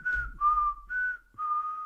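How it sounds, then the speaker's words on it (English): A person whistles a short tune in four clear sustained phrases of steady pitch, close and alone, with brief pauses between them and no talking. "It's just I was whistling the tune."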